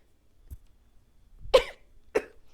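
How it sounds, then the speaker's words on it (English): Two sharp, close sneezes from one person, a second apart, each a short burst in an otherwise quiet room with a faint soft sound just before them. "Those are my sneezes."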